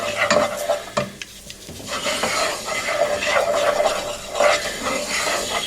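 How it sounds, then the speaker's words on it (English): Sage being stirred through a sizzling pan, a spoon scraping and clinking against the metal in irregular strokes over a steady close frying hiss. "And then I'm going to stir this through."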